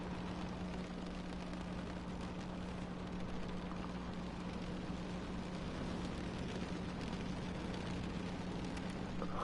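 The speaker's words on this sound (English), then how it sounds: "Is it raining?" Steady rain falls in the video game The Stanley Parable 2, a constant even hiss over a low hum that stays level throughout, with no voices.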